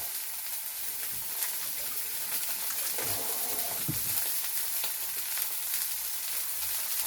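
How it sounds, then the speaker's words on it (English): A steak hits a very hot pan and bursts into a steady, loud sizzle of searing fat and oil that hisses continuously close up, with no talking over it. "I want to hear that sound as I put the steak in"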